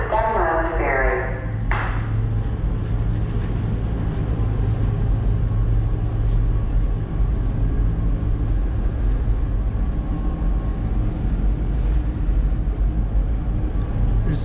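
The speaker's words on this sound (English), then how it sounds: "Thank you for riding the Staten Island Ferry." The Staten Island Ferry is underway, with a steady heavy rumble of engines, wind and water throughout. A brief tonal chime sounds at the start, and people's voices come through over the drone.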